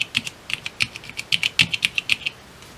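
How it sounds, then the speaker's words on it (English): Keystrokes clacking on a handmade 4x4 hexadecimal matrix keypad fitted with Cherry MX Brown switches and retro beige keycaps, about twenty close, crisp presses in an uneven rhythm with no talking. "the Cherry MX brown key switches feel really nice"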